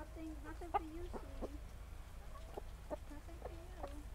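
Several chickens cluck in short, pitched bursts, with a rooster's calls mixed in. The clucks come close by and fairly steadily, with no talking.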